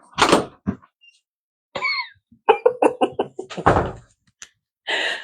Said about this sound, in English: Let me go open the door for Levi.